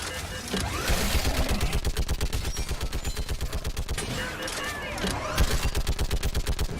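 Battle gunfire in Mass Effect 3: loud, rapid automatic fire rattling continuously at a fast even rhythm, with heavier blasts and battle noise mixed in.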